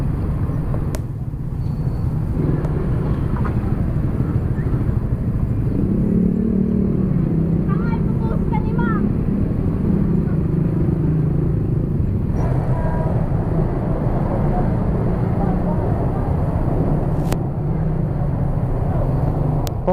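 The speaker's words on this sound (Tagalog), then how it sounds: "Traffic na mga ka-taker oh" Road traffic with cars and motorcycles stuck in a jam, a continuous low engine rumble and passing vehicle noise throughout, with people talking over it.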